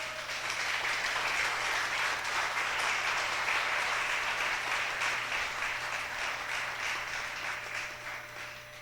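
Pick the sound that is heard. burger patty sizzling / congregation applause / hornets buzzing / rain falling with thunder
congregation applause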